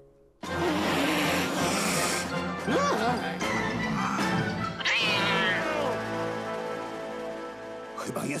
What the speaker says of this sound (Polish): Śmierdzący kocie, odejdź od Kichara!